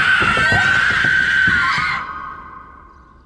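Several students scream together in a high, sustained shriek that fades out, with some thumping underneath, from a scene in the 2002 Japanese horror film Ju-On: The Grudge.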